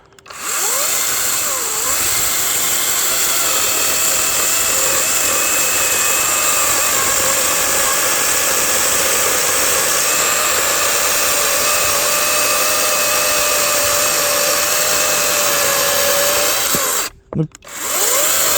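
A cordless battery-powered saw runs with a loud, steady high whine for about seventeen seconds, then cuts off briefly near the end.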